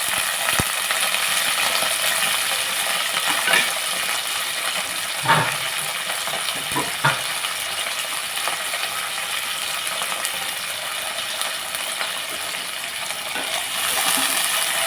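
Green chillies, garlic, cumin and curry leaves fry in hot oil with a steady bright sizzle, broken by a few faint clicks and taps of a spoon against the pan.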